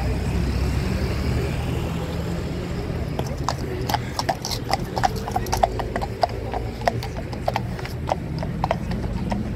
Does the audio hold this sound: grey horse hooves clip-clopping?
yes